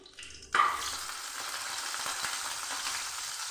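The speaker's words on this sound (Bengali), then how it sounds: "ওই তেলের মধ্যেই আমি দিয়ে দিচ্ছি কয়েক দানা কালো জিরে দিয়ে দিচ্ছি" Nigella seeds tossed into hot oil in a pan for a spicy sheat fish curry: a quiet start, then a sudden loud hiss that settles into a steady, close sizzle with no voices.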